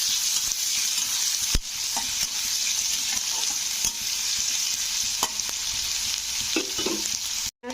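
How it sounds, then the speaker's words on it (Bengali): Sliced onion fries in hot oil with spices, a loud, continuous sizzle broken by occasional sharp scrapes and clicks of stirring, with no talking. "পেঁয়াজটাকে একটু হালকা লাল করে ভাজতে হবে।"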